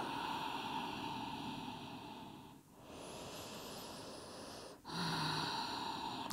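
Deep yoga breathing in a warrior two pose, with a long hissing breath bracketed by quieter passages and a sharp intake near the end, faint and close under a steady background hiss.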